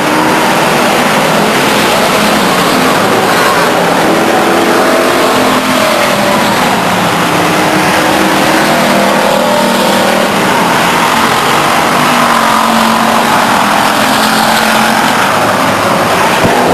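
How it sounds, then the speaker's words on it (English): Stock cars race around the Stockton 99 Speedway oval, engines roaring and revving continuously as the pack passes, loud and steady with shifting pitch throughout. "back chute as the 19 car and 31 car Jeff Wall tangle"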